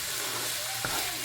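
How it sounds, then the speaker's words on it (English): Shallot frying in a pan for Guyanese bake and saltfish, a steady close broadband sizzle running throughout with one brief stir or clink near the end. "I'll leave it to fry up because it's still a bit wet and pasty"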